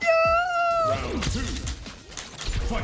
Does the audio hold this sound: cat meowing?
yes